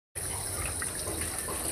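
A water tap runs steadily, filling buckets at a neighbour's outdoor faucet, a continuous close gush that starts abruptly and stays even, with no voices.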